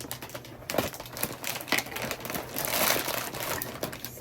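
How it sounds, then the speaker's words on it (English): Packaging for a cheap eyeshadow palette crinkles and crackles as it is opened, with a run of irregular crisp snaps and rustles at close range and moderate loudness, and no voices. "Sorry for the crinkles."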